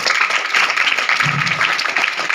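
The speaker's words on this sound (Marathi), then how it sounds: "टाळा वाजवा तिच्यासाठी स्पेशल" A crowd claps steadily and loudly in a dense, sustained round of applause at a school or public gathering, held throughout with no gaps.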